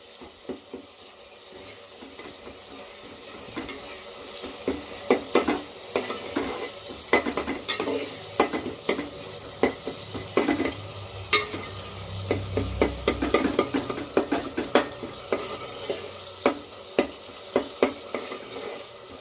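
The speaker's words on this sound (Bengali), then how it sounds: "পেঁয়াজটা আমি গালিয়ে নিচ্ছি সুন্দর করে খুন্তি দিয়ে ঠুকে ঠুকে সুন্দর করে আমি মশলাটা কষিয়ে নিলাম" Onion and spices frying for a thin pangas fish curry, a spatula tapping and scraping the pan in repeated sharp knocks over a continuous sizzle, close and busy, with no speech.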